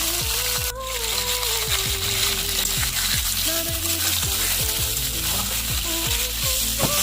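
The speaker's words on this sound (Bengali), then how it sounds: "আলুটা আমি ভালো করে ভেজে নেব" Potatoes fry in oil with salt and a little turmeric, giving a loud, steady sizzle close by, mixed with repeated quick descending tonal chirps and occasional scrapes.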